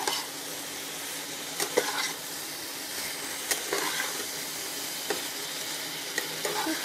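Soybean vegetable curry sautéing in a pan, with a steady broad sizzle and a few sharp stirring scrapes scattered throughout, close and alone.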